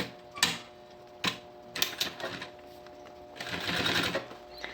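A sewing machine runs in several short bursts, stitching piping onto a synthetic backpack strap, edge to edge. The last burst is longer and steadier, with a few pauses between runs.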